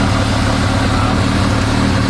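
A loud engine idles steadily nearby, a constant low rumble with no change in pitch.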